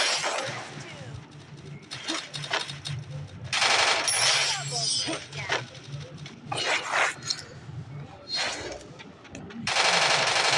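Groza assault rifle firing in the video game Free Fire, with rapid automatic bursts in several loud clusters over game effects and a low hum, while a voice talks in between.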